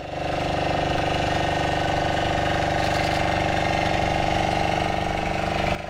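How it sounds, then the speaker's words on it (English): Motorized boat engine on the river at Satkosia drones loudly and steadily close by, a continuous throbbing mid-pitched roar with no break and no talk over it. "a motorized boat was passing by and it was really loud."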